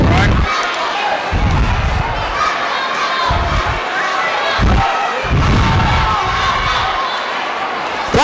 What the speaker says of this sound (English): you can hear this crowd, I'm sure, just through our mics. It's really packed in here and it's going to be really loud